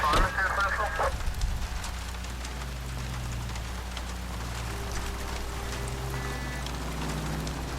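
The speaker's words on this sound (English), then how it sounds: "Oh, the rain. This is a relaxing sound I can get used to." Steady rain hisses and patters in the video game L.A. Noire, an even wash of fine droplets that runs throughout under a low drone and faint game music.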